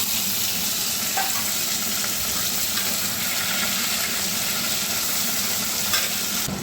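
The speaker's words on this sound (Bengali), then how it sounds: "এরপর দিয়ে দিচ্ছি টমেটো আর কাঁচা লঙ্কা" Tomatoes and green chillies sizzle in a pan of oil with browned fried onions for a goat meat curry, a steady, loud frying hiss with faint stirring scrapes, no voices.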